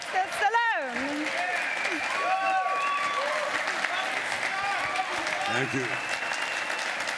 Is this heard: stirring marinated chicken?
no